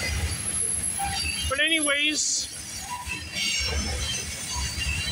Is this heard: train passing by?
yes